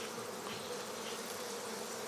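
Honey bees buzzing around a beekeeper's hives in Greece, a steady, dense, faint hum of many insects droning continuously with no voices.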